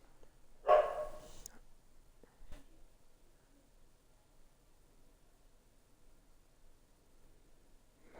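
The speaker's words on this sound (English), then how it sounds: "Hope that dog bark was the only time." A single dog bark rings out sharply near the start, followed by a faint thump and then near silence for the rest.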